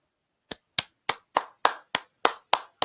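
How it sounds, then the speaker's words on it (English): Nine sharp, evenly spaced claps from a single pair of hands ring out close and clear, one after another with brief silence between, on a Lakers post-game show after a win over the Bucks. "You hear that clapping?"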